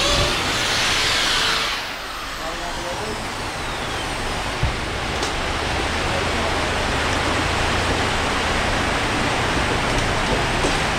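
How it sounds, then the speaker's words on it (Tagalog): Heavy rain falls steadily at a construction site where an awning window and pocket sliding door are being installed, making a dense, loud, continuous hiss that lasts throughout with no voices. "lumakas na naman ang ulan"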